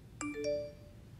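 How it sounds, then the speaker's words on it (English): A phone notification chime rings out alone in a quiet room: three bright, quick rising tones that hang and fade over about a second. "no, just a notification."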